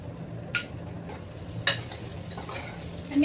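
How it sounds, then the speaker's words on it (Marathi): Sliced onion fries quietly in a pan with bay leaf, cloves, cinnamon and cumin, a soft steady sizzle broken by a few sharp scrapes of a stirring spoon against the pan. "कांदा चांगला ना असा सोनेरी कलर येईपर्यंत भाजणार आहे."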